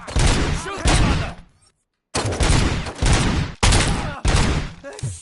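Bursts of loud, rapid gunfire from the video game RoboCop: Rogue City, several sustained volleys broken by a short silence, close and dense throughout.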